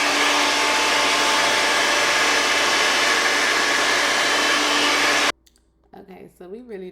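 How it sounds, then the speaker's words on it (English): A hair dryer blows with a loud, steady whooshing roar for about five seconds, then cuts off abruptly and a voice starts talking. "we really don't want to hear my blow dryer sound"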